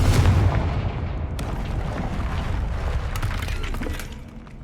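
A Confringo spell explosion in Hogwarts Legacy opens with a heavy boom, followed by shattering crashes and breaking debris that rumble on before fading out, no speech.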